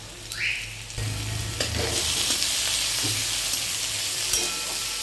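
A bread mixture is tipped into lightly fried onions in a hot pan, bringing a sudden loud sizzle that holds steady, with scraping stir sounds over it.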